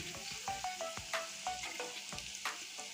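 Potatoes fried red in a pan for a thin ridge gourd and fish curry sizzle steadily, with a few sharp clicks and scrapes of stirring over the frying hiss, close up and with no talking.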